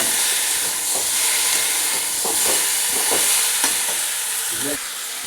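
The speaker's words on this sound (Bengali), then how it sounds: "এবারে ভালো করে কষিয়ে নিচ্ছি" Mutton with papaya being stir-fried in a pan, a continuous sizzle and hiss with repeated scraping strokes of a spatula at an uneven rhythm, close and fairly loud.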